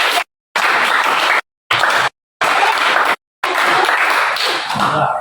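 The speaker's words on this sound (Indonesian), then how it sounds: "Tepuk tangan buat kelompok." Classroom applause for a student group after a presentation, a dense burst of many hands clapping close by in several stretches broken by abrupt silent gaps.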